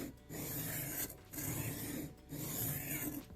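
Rhythmic rasping strokes of an MKM TPF knife drawn across cheap diamond sharpening plates, repeated in steady passes with short pauses between them, close and fairly quiet.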